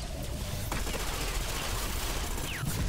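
Automatic MP5 gunfire in the shooter game Ghost Recon Phantoms, dense overlapping bursts that run almost the full length of the clip at a steady, loud level.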